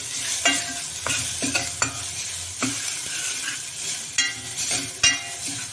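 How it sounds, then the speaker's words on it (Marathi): Asafoetida frying in a small amount of oil for horse gram soup, a steady close sizzle broken by repeated stirring scrapes of a spoon in the pan, with no voices. "थोडा हिंग टाकून घेऊया। व्यवस्थित असं तळून घ्यायचं।"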